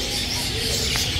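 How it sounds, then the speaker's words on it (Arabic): Lovebirds call in an animal and bird shop in Baghdad, a dense, noisy chatter of many birds close by with a brief sharper chirp. "انواع طيور الحب"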